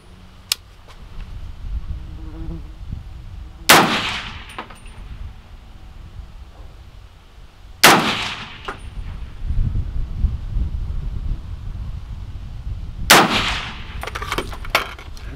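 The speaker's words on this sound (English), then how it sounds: "So, I'm gonna shoot the bottom left target." Three loud, sharp rifle shots from a Stag Arms 300 Blackout fired at a target, spaced about four seconds apart, each with a brief echo, between quieter stretches of handling noise.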